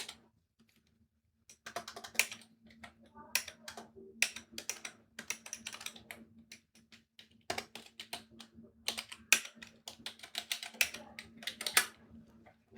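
Someone types on a computer keyboard while entering data into an Excel sheet. Quick, irregular key clicks come in close, light bursts over a faint steady hum, with a short quiet start and no talk.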